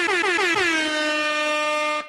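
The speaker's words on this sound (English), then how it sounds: "You get the air horn for that." A loud, blaring air horn sounds in a few quick stuttering blasts, then holds as one long sustained tone before cutting off.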